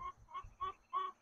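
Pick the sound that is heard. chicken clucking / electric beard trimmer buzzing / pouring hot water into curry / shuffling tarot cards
chicken clucking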